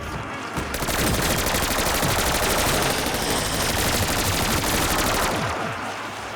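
A Gatling gun mounted as an elite enemy's arm in COD Vanguard fires a continuous, dense stream of rapid shots for about five seconds, loud and close, spinning up briefly and trailing off at the end, with no voices.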